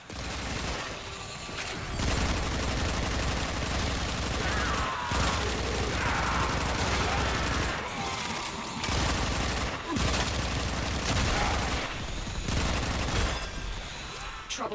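Sustained rapid gunfire from the video game Warframe, bursts of shots running nearly nonstop with brief pauses, loud and close amid busy game effects.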